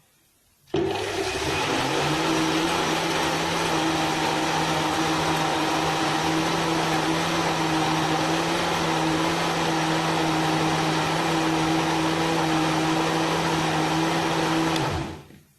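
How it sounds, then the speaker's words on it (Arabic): An electric blender beats eggs, sugar, oil and water for orange basbousa batter, starting abruptly with a steady loud motor whir that runs unbroken for about fourteen seconds and then cuts off. "نخليوها حتى نضربو هاد البيض والسكر اللي عملنا والزيت والماء"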